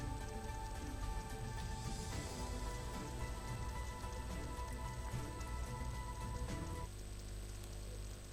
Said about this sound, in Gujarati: મહેસાણા જિલ્લામાં વરસાદી માહોલ જોવા મળ્યો હતો